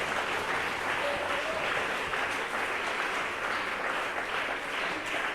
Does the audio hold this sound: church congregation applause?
yes